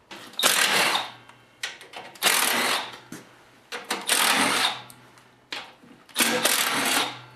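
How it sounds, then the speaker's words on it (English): A 1/4-inch impact driver with a 3/8 socket zips out the belly pan bolts on a Troy-Bilt/Cub snowblower in four loud, close bursts of about a second each, with brief pauses between. "Today I'm using my 1/4-inch impact with a 3/8 socket."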